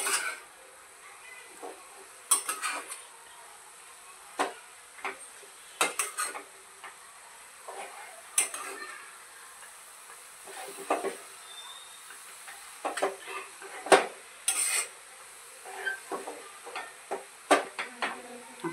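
Shepu bhaji, dill greens, is stir-fried in a pan over a medium flame, with scattered clinks and scrapes of a utensil against the pan over a faint, low sizzle and no voices.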